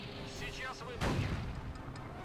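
Tank cannon firing in a video game, a single heavy boom landing midway with a rumbling low tail, preceded by a muffled whoosh and ambient battlefield noise.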